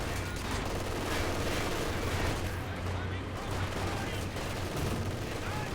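MG42 or Maxim machine guns rattle in Company of Heroes 2, the fire buried in a dense, continuous wall of battle noise with no let-up across the whole stretch.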